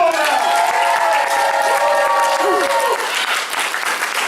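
An audience at a martial arts belt ceremony applauds and cheers loudly, with dense continuous clapping and raised voices throughout, easing slightly toward the end.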